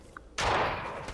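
Gunfire in the Fortnite video game erupts abruptly as a loud, close burst that rings on and slowly decays, preceded by a faint tick.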